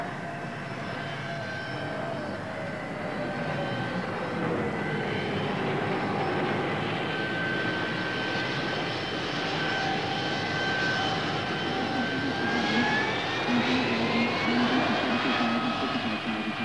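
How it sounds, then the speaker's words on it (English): A Lockheed TriStar airliner powered by three Rolls-Royce RB211 turbofans roars steadily, with a continuous engine rumble and high whining tones that slowly shift in pitch as it passes. "The Lockheed TriStar, powered by 3 Rolls-Royce RB211 advanced technology turbofans"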